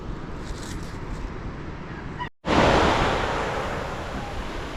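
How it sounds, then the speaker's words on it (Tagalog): Strong wind roars across a sea shore where fishing boats are readied, with steady wave-like noise and microphone buffeting. A brief cut of silence falls midway before the gusty rush returns louder and slowly settles. "Lakas pa rin ng hangin."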